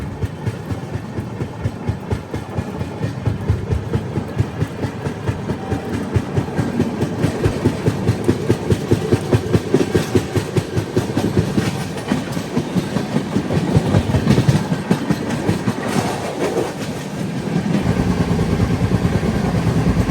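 The Dakshin Super Fast Express, train 12721 running from Hyderabad to Delhi, rolls along the rails with a loud, continuous rumble and a rapid, regular clickety-clack of wheels over track joints, heard from close by without any talk.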